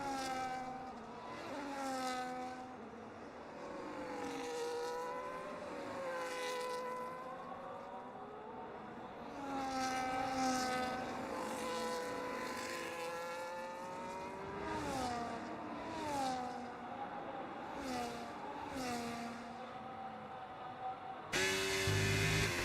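Race car engines from an F1-style racing video game at the Netherlands GP whine continuously, pitch rising and falling with each gear change and pass, with several cars overlapping at a moderate level.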